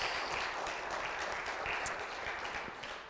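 Congregation applauding at a Spanish-language church service, a dense continuous wash of clapping from many hands, fairly loud and even, tapering slightly at the end.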